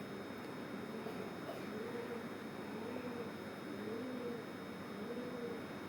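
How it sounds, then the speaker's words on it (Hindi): Soft, low pigeon coos repeat at a steady rhythm over constant background noise, faint and somewhat distant. "कबूतर की गुटरगू आप सुन सकते हैं."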